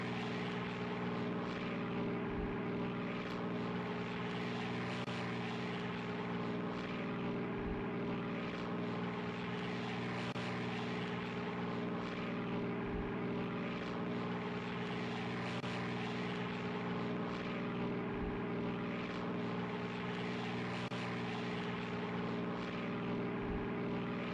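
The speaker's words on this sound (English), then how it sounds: "with how fast our aircraft is compared to the biplanes, we should be able to do this easily" Propeller aircraft engine droning continuously in the video game Air Conflicts Secret Wars, a steady loud hum with a faint regular pulsing throughout and no voices.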